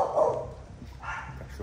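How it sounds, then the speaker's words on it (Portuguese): Dogs bark from a neighbour's house behind a closed gate, sounding moderately loud and a little distant in a noisy outdoor setting, with a couple of bursts over steady background rumble. "Cachorrado da vizinha."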